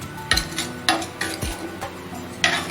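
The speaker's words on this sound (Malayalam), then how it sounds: "ഇത് നന്നായിട്ട് ഇളക്കി യോജിപ്പിക്കാം." A spoon stirring jackfruit seed masala curry in a metal pan, with sharp scraping clinks recurring every half second or so over a faint sizzle.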